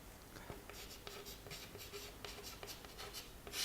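Chalk or marker scratching on a board during a Class 11 physics lesson, faint intermittent strokes in a quiet room with no talk.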